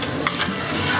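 Chopped onion hits hot butter in a pan and sizzles loudly while being stirred, a close, bright frying hiss lasting about a second with quick scraping stir sounds near the start.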